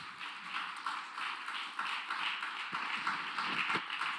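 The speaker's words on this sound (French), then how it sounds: "Si la gauche pouvait cesser de m'applaudir, ça arrangerait mes affaires." Applause from the left-wing benches in the French parliament during a debate on the Paris voting system: steady, dense clapping from many hands, held at an even level throughout.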